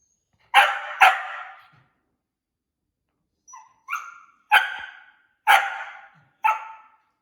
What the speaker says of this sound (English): what do I do when they bark?